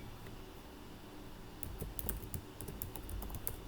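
Quick, light keystrokes on a computer keyboard while code is typed, a steady run of clicks starting partway through over a constant low hum, close and fairly quiet.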